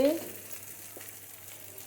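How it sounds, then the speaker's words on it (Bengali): Shrimp, onion and green chilli frying in a pan give a soft, steady sizzle, faint and continuous. "কাঁচামরিচটা হয়ে গেছে চিংড়ি মাছ পেঁয়াজ সব কিছু হয়ে গেছে ভাজা ভাজা"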